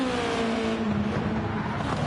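A race car in a Le Mans racing game screams through the Porsche Curves, its high engine note droning steadily and shifting pitch slightly as it holds speed, loud and close with no pauses.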